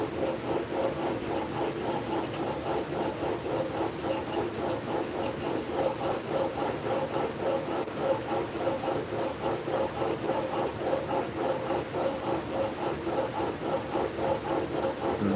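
Blade from a junk hand plane being sharpened, a steady rhythmic rasp of back-and-forth strokes on a sharpening stone, close and continuous with no speech.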